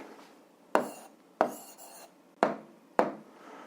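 Pen strokes writing out an algebra answer on paper, four distinct scratchy bursts at a steady pace, each a short sharp rasp fading quickly, close and fairly quiet with no talking.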